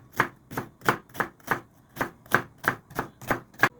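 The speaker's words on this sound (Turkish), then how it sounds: "Jülyen salatalık doğruyoruz." A knife chops through cucumber in a julienne cut, about eleven crisp, evenly spaced strikes on a board, close and clear with no talk.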